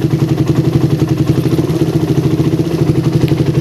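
A motorcycle engine fitted with a tuned PWK carburetor runs close and loud with a rapid, even pulsing throb, holding a steady high-revving drone without dips or stumbles, and no one talking.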